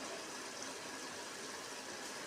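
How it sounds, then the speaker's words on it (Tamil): Water from rinsing a mixer jar poured into a cooking pan of dry prawn thokku, a steady, close, unbroken rushing splash that fills the whole moment without talk. "நான் மிக்ஸி கழுவுன தண்ணியவே வச்சுருக்கிறேன், அந்த தண்ணியை ஊற்றிடுவேன்."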